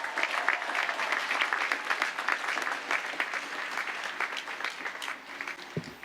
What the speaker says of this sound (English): Let's give our recipients a round of applause.